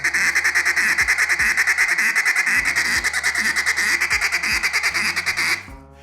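Hand-worked duck call mimicking a flock of ducks feeding on water, a rapid, steady stream of loud raspy quacks and chatter with hand-muffled drags, breaking off abruptly near the end.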